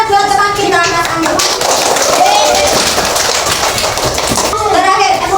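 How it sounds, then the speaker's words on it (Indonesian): Classroom children at an Islamic primary school clapping together, a rapid, loud patter of many small hands that runs throughout, mixed with children's voices and a teacher speaking over it. "Tepuk tangan buat teman kita, Mas Anggi."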